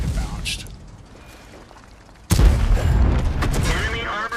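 A tank shell strikes armor and ricochets in World of Tanks during a T29 battle, a single sudden heavy boom midway followed by rumbling battle noise, with speech nearby.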